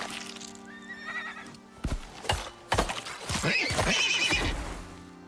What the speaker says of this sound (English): There is a baby horse here.